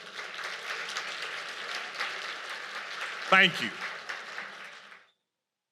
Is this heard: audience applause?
yes